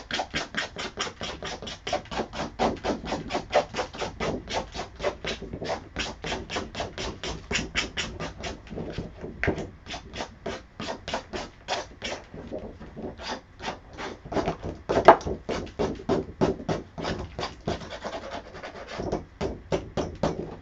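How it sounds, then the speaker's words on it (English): A sheet is scraped off a Cameo cutting mat in rapid, regular strokes, a dry rasping scratch repeated dozens of times, quiet and close, with one sharper scrape partway through. "let me scrape off the sheet here"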